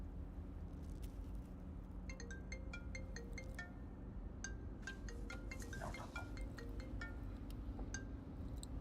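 A phone ringtone chiming in a Hindi-dubbed thriller film, a faint repeating melodic tone pattern over a low background hum.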